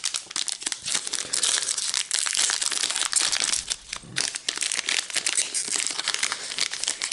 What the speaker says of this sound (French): On va ouvrir un deuxième booster.